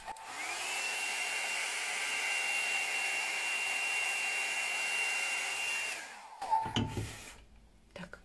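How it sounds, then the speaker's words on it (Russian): A hair dryer blows steadily with a constant whine for about six seconds, then shuts off, followed by light handling noises. "Можно фен попробовать."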